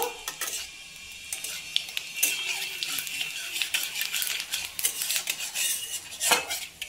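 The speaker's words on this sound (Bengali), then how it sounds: "তেলের মধ্যে দিয়ে দেব 2 শুকনো লঙ্কা আর 5 ফোড়ন। একটু ভাজা ভাজা করে নেব।" Two dried red chillies and five-spice seeds frying in oil, a hissing sizzle under frequent metallic clinks and scrapes of a utensil against the pan, close and busy throughout.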